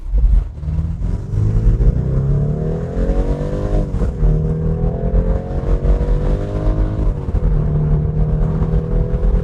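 BMW 4 Series convertible with a 48V mild hybrid, roof open, accelerating hard to 100 km/h in Sport Plus mode: loud, close engine roar climbing in pitch through several gear shifts, heard alone without talk.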